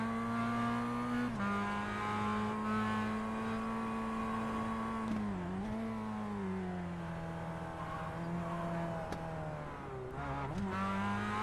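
Onboard engine of a Mazda race car lapping Mt. Panorama in the iRacing sim, a steady high whine held at near-constant revs, dipping briefly at a couple of gear shifts before climbing again, loud and continuous with no talk.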